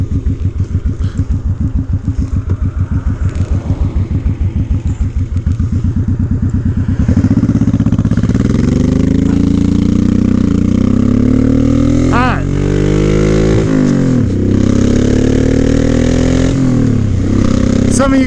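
A Honda 1100 Sabre motorcycle accelerating hard on a freeway, its engine revving up through first gear with a rising, loud, close roar, then shifting and pulling again amid wind noise.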